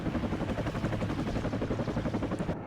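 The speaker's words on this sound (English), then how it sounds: "Here comes in their helicopter a little bit late." A military helicopter arriving in the strategy game WARNO, its fast, steady rotor thumping continuous and fairly loud against a dense rumbling background, with no talk.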